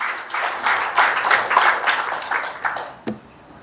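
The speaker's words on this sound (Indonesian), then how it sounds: "tepuk tangan bagi Yesus" Congregation applauding in a church service, a steady wash of clapping from many hands that fades out near the end.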